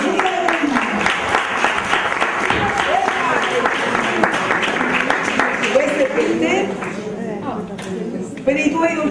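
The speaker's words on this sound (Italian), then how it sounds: "Vogliono un grande applauso" An audience claps at a cake contest, a steady wash of applause running throughout while a voice talks over it close by.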